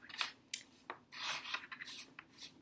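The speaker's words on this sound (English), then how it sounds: "Okay, so just rubbing chalk onto the paper," Chalk rubbed over paper spread with salt in a mermaid salt craft gives a loud, gritty rasp in several separate strokes, each a scraping swipe with short pauses between.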